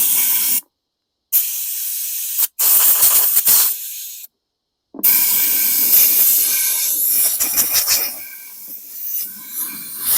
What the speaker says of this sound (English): I'm just going to blast this out with some compressed air